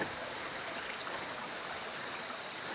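Continuous rushing of water flowing through a tunnel below a waterfall, a steady close stream with no pauses and no voices.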